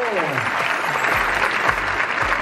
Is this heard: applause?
yes